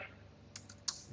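Quiet keystrokes on a computer keyboard, a few soft separate clicks with one sharper tap, heard alone over faint background hum.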